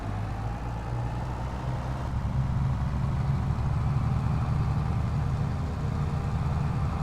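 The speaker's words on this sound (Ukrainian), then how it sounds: "сівалка тяжкувата, шатає тракторця" A tractor pulling a heavy seeder in the video game Farming Simulator 23 gives a steady low engine drone and rumble, constant and fairly loud throughout with no talking.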